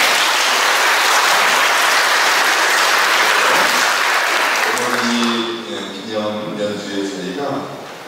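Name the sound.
audience applause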